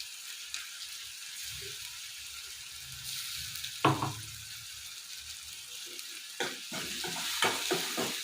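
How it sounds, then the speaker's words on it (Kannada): Ginger garlic paste sizzles softly in hot oil in a pan while a spoon stirs it, with occasional scraping clacks and knocks against the pan over the steady frying hiss. "ಈಗ ಶುಂಠಿ ಬೆಳ್ಳುಳ್ಳಿ ಪೇಸ್ಟ್ ಹಾಕ್ತೀವಿ ಇವೆಲ್ಲ ಹಸಿ ಸ್ಮೆಲ್ ಹೋಗೋ ತನಕ ಹುರ್ಕೊಳ್ಳೋಣ"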